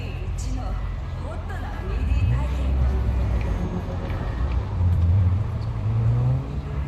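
Engine hum of a car moving through traffic in Cyberpunk 2077, low and continuous with a couple of revving swells, running under a person's speech.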